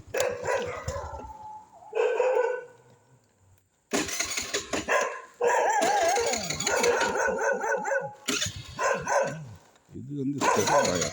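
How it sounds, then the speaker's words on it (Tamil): Street dogs barking on a town street, several sharp barks in bursts and clusters at close range, broken by short quiet gaps, with someone talking over them. "முன்னாடி நாய்"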